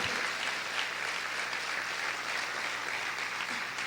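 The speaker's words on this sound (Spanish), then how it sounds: "Vamos a aplaudir fuerte a nuestro Dios." A church congregation applauds their God during a sermon, dense and steady hand-clapping that fills the room evenly from start to finish.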